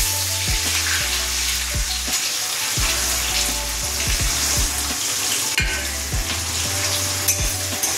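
Chopped onions frying in oil and stirred in a pan, a loud steady sizzle broken by repeated spatula scrapes and knocks against the pan, close and without voices.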